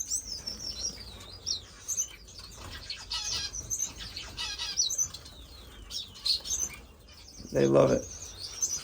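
Pet birds in an indoor bird room, starfinches among them, with close wing flaps and busy high chirps and tweets scattered throughout, a brief loud flurry near the end, and someone speaking briefly among them.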